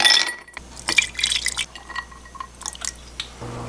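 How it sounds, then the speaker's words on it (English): Whiskey is poured into a glass in a camper van, with quick gurgling splashes and a clink of glass up close, then dripping and small knocks as the pour ends. "So I'm going to pour myself a couple whiskeys."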